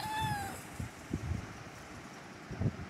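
A cat in the video game Minecraft lets out a single short, clear meow at the start, followed by soft low thumps and rustling background noise.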